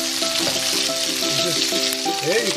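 Hash brown patties fry in preheated oil in a pan, a steady crackling sizzle running the whole time with a voice talking briefly over it.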